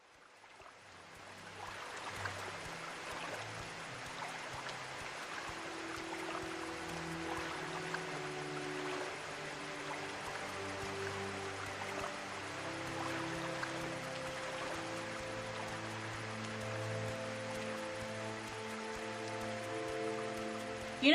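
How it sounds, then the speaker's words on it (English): Steady rain in the video game Morrowind hisses as a soft, continuous wash, with low tonal music droning faintly underneath and no talking. "the sound of the rain would be a little less"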